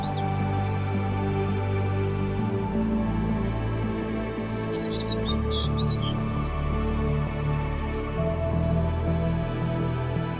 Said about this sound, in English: Here I've implemented randomized bird sounds that will occur when players are within a certain proximity to the trees.